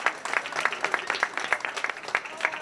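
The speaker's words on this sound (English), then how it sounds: "let's have a round of applause for Lynn Smith and her staff" A modest round of applause from guests at the Brockton City Hall 125th anniversary celebration honoring Lynn Smith and her staff, scattered individual claps fairly soft and somewhat distant, irregular and thin rather than a dense roar.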